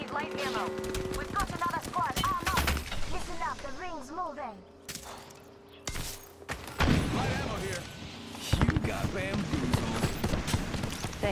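Gunfire crackles in the Apex Legends shooter as a player comes under fire: scattered loud bursts and sharp impacts mixed with game effects, with someone talking over much of the action.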